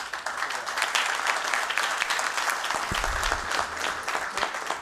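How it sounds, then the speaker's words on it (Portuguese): Federal councillors at a bar association session give sustained, full applause, a thick wash of clapping that holds steady without pause for the whole stretch. "As palmas dizem tudo"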